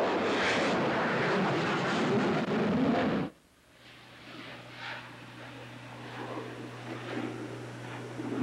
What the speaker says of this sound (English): Spectacular shots of the Concorde taking off into the wild blue yonder.